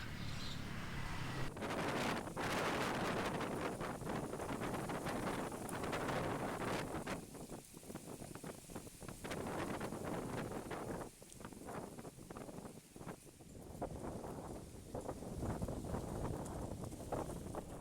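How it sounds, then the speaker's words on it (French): Strong outdoor wind buffets a microphone in Battambang, Cambodia, a loud continuous rumble and flutter that swells and dips for the whole stretch, with no voices over it. "Je mets mon petit micro à proximité de ma bouche pour pas qu'on entende trop le vent."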